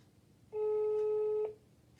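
One steady telephone signal tone sounds for about a second, clear and fairly loud over a quiet background hiss, then cuts off abruptly.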